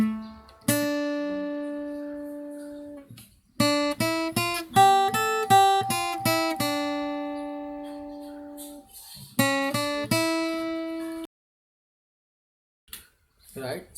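Lead guitar plays a Ganesh Aarti melody, with bursts of quick plucked notes and sustained ringing tones separated by pauses, fairly quiet and close, ending in near silence with a few faint notes.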